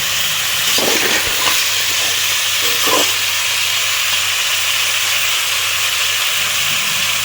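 Masala paste and sour potatoes fry in a pan with a constant hissing sizzle. A few soft scraping stirs come near the start, and the sizzle runs on alone without talk.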